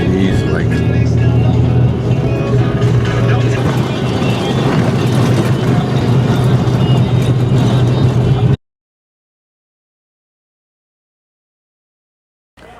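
A small bus on a trip to Bran Castle in Romania rumbles steadily with a loud, close engine drone for about eight seconds before cutting to silence, then a brief burst returns at the very end.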